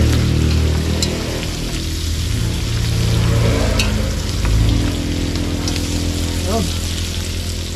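Chili, onion and garlic sautéing in a hot pan give off a steady, close sizzle that runs unbroken for the whole stretch, with a few small pops and clinks along the way.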